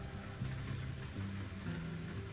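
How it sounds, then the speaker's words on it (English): Simulated rain patters in American Truck Simulator while a Mack Superliner drives near Fresno in the Sierra Nevada, a soft hiss over a low droning engine hum with shifting tones. "I don't like how much it rains right now"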